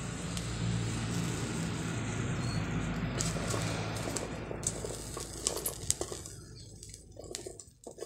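Dried chillies are dry-roasted in a pan over low heat, giving a steady close rustle and scrape that turns into scattered light taps and clinks toward the end.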